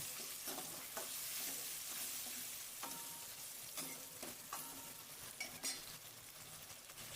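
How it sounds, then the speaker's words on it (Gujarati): Green cowpeas are stirred into tomatoes in a pan for chapdi undhiyu, a steady close sizzle broken by spoon scrapes and light clinks against the pan. "હવે આપણે એમાં લીલી ચોરી એડ કરશું અને ચોરીને સરખી રીતે મિક્સ કરી લઈશું."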